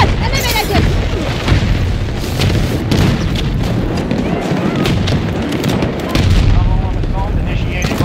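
An SWS-10 sniper rifle fires in Battlefield 2042 amid heavy booming battle noise and other gunfire, with voices talking over the loud, dense action.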